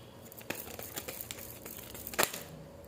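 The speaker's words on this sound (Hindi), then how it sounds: "मैं अभी कार्ड्स शफल कर रही हूँ।" Tarot cards being shuffled by hand, a soft papery riffle with scattered crinkling taps and a sharper burst of card slaps near the end, close and fairly quiet with no voice.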